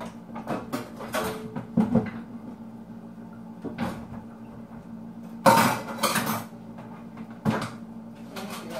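Dishes and a metal strainer handled in a home kitchen while cooking a meal: scattered sharp clinks, clatters and knocks come in irregular clusters, near and fairly loud, with quieter gaps between them.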